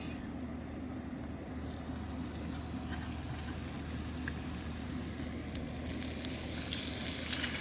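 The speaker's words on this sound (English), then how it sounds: "Vegetable oil is going in the pan now. We're gonna throw in the steak." Steak frying in vegetable oil in a pan for lomo saltado, a dense, even sizzle that holds steady and swells slightly toward the end.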